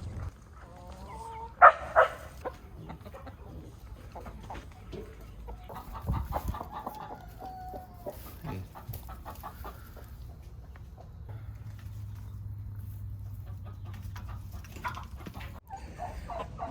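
A few chickens cluck and squawk briefly at close range, followed by quieter scattered clucks against a low background hum.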